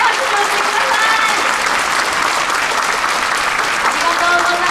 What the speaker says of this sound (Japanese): 大きな拍手をしてください。